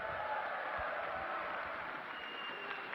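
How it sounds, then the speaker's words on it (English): A live esports crowd at an IPL Face Off match applauds and cheers for teams Legion and TSM, a broad, steady wash of clapping and crowd noise filling the room at moderate loudness. "let's have a cheer for Legion and"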